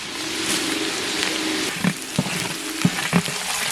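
Mustard seeds, curry leaves and green chillies fry in hot oil with a close, steady sizzle, and a few sharp spattering pops stand out near the end.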